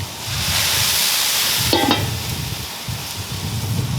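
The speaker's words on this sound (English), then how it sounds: "to get the cheese to melt a little faster, we're going to steam some of this." Chicken smashburger patties topped with cheese sizzle and hiss loudly on an Evo flat top grill as water is added to steam them, with a steady broad frying noise and a brief sharper burst partway through.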